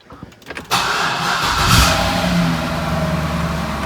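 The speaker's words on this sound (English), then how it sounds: "The car just turned on." A Chevrolet C6 Corvette engine cranks briefly, then catches and fires up with a loud rising roar that settles into a steady, strong idle nearby.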